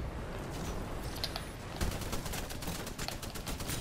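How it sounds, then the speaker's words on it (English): Light machine gun fire in the Titanfall 2 multiplayer game, a continuous rattling burst of shots at steady loudness across the whole stretch, with no talk over it. "I really like this light machine gun."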